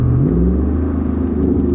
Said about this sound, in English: It's got that V8 nice rumble to it.